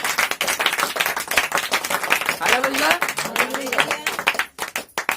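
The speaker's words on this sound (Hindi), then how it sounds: "जोरदार परमेश्वर के लिए ताली बजाएं।" Congregation at a Hindi Christian worship service clapping hands together in praise, a dense burst of applause mixed with a spoken voice and crowd sounds, fairly loud throughout.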